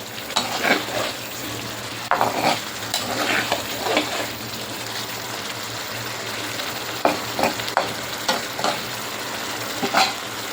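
Eggs fry with spices in a pan, a soft steady sizzle broken by several bursts of stirring and scraping, fairly quiet and close with no talk.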